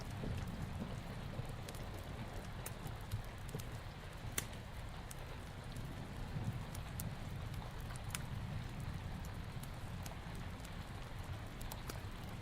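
Soft, steady rainfall hisses in the background, a continuous faint patter with occasional sharper drips and ticks scattered throughout.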